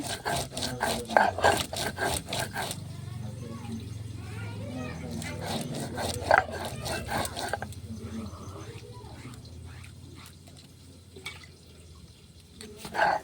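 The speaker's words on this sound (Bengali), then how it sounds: "এবার মশলাটাও বেটে নেব শুকনো লঙ্কা আদা কাঁচা লঙ্কা বেটে নেব" Dried chilli, ginger and green chilli are ground into a spice paste on a grinding stone, making repeated rhythmic scraping and rubbing strokes with someone talking over them.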